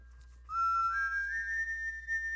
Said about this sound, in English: Hey, I know that whistle.